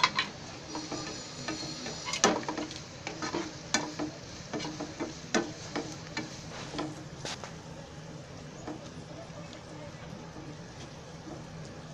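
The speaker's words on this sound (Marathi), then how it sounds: "आता त्याच्यामध्ये मी थोडा कढीपत्ता टाकते." Curry leaves sizzling and crackling in hot oil in a pan, a faint steady fry with scattered pops and stirring clinks, while someone talks over it.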